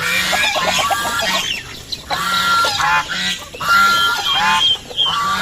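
Chickens fighting squawk and cackle loudly in agitated, overlapping bursts, a noisy flurry of fowl calls close by with brief pauses between.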